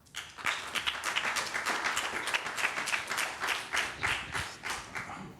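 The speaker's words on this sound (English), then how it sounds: "I'm going to request that we not have applause after each speaker" An audience at a special city council meeting breaks into sustained applause after a public speaker, a dense wash of many hands clapping at moderate distance for several seconds before it tapers off.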